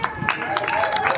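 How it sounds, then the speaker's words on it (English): Crowd applause for World Superbike women's riders walking out in a fan zone, steady clapping and hubbub filling the whole brief moment. "a nice round of applause for them as they come out"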